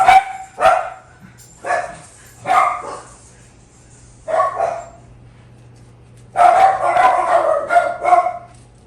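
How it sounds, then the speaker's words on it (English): Pet dogs at home bark loudly in short, excited bursts, several sharp barks with pauses between them and then a longer run of rapid yips and barks, close to the microphone. "you hear my puppies going wild?"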